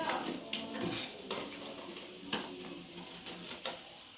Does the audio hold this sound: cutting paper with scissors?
yes